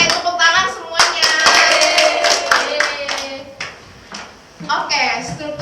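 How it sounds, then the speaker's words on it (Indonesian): A burst of sharp hand claps from a class of students, with voices talking and calling out over and after the clapping. "Tepuk tangan semuanya."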